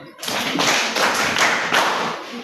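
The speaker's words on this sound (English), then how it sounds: "Clap for it." A group claps together in a community classroom session, with the claps rising and falling in several dense, rhythmic bursts. The clapping is fairly loud and close, with little talk over it.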